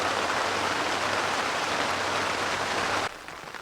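Heavy rain pours down at a carp fishery in September, a dense, steady hiss, then abruptly cuts to a much quieter patter.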